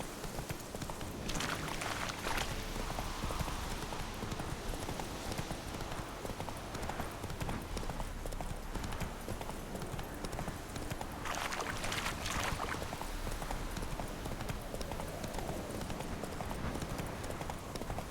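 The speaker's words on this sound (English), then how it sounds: "Whoa there, Roach." Horse hooves clip-clop steadily on the ground in the video game The Witcher 3: Wild Hunt, a continuous rhythmic trotting close by that carries on throughout with a faint bed of game ambience.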